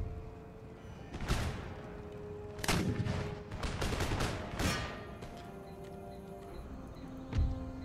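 Musket fire in Empire Total War, scattered volleys of sharp cracks at mid distance, several shots clustered together, then a lone late shot over low battlefield ambience.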